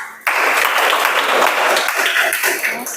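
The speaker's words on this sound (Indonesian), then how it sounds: "Tepuk tangan buat Damar." A classroom of high school students bursts into applause for a classmate during a physics lesson, the clapping starting abruptly, loud and close, then holding steady before tapering slightly.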